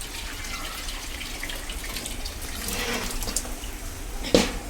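Fish curry gravy poured slowly into a pot, a soft continuous liquid stream with gentle splashing and a brief clink near the end.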